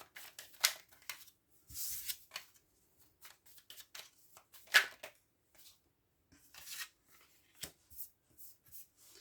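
Tarot cards shuffled by hand during a card reading: repeated soft riffling and slapping bursts come in uneven clusters across the stretch, with quiet gaps between and no talking.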